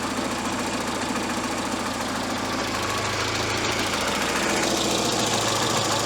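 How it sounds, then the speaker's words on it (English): A rebuilt car engine idling close by, a loud, steady mechanical drone with a faint rhythmic knock running throughout, with no talking. "we definitely have a better idle this time"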